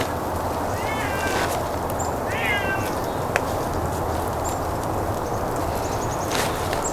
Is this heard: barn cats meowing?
yes